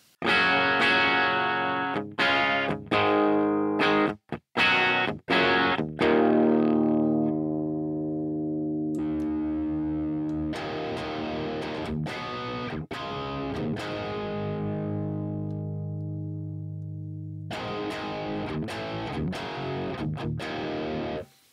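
Distorted electric guitar through a Hotone Mojo Attack amp modeler, using a cabinet simulation in the recording software, plays choppy muted chugs, then sustained ringing chords with a boxy cabinet tone, loud and without voices.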